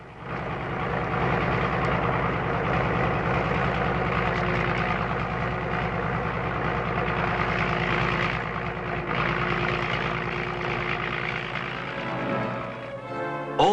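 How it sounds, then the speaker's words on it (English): A commercial mechanical boring machine used in bomb disposal work runs with a steady, heavy mechanical drone and low rumble that fills the scene, then cuts off abruptly at the end. "they're developing a mechanical borer, similar to this commercial machine that will do the same job in 6 hours"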